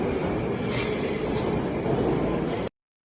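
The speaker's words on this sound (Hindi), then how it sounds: "अब ये मेट्रो रेल जा रही है।" A light metro train running on rail in Raipur, heard as a steady, loud rolling rumble with faint wheel hiss and squeal, continuous until it cuts off abruptly near the end.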